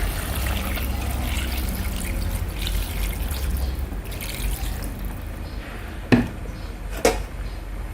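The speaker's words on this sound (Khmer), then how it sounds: "ចាក់ទឹកចូល" Water pours into a cooking pot of pork belly and pork legs, a steady trickling rush outdoors in a village, followed by two sharp knocks near the end.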